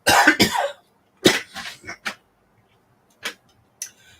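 A person coughs in a harsh burst at the start, then coughs and clears the throat a few more times with short, quiet pauses between, close and fairly loud.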